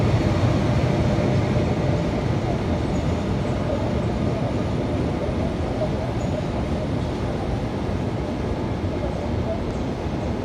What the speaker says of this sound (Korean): 지금 들어오는 열차는